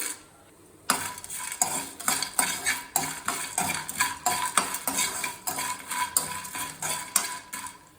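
Whole cardamom pods are dropped into a very hot pan with cinnamon sticks for homemade garam masala. After a near-silent moment, a utensil stirs and scrapes, and the spices rattle in quick, uneven strokes that keep coming.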